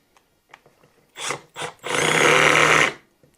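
A cordless impact driver drives a screw: two short bursts, then a sustained rattling hammering run of about a second, close and loud, followed by quiet.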